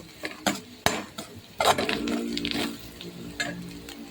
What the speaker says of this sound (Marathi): घालून कांदा चांगला परतवून घेऊ